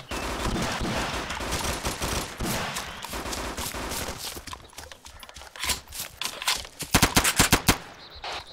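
Military shooter ArmA 2 ACE gunfire: sustained rattling automatic fire gives way to a cluster of loud, punchy shots near the end, close and dominant, with no speech.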